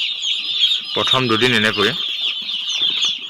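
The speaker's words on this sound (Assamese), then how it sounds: "আপোনালোকে দেখিছে ষ্টভৰ কাষে কাষে তেনেকৈ পোৱালিবোৰ আছে" Broiler chicks huddle beside a stove, a dense, steady high-pitched chirping running throughout, fairly close, with a brief spoken phrase in the middle.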